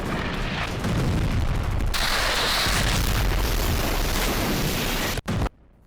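Russian artillery shelling in Zaporizhzhia rumbles as sustained heavy booms and blast noise, a dense loud roar that shifts midway and cuts off abruptly near the end.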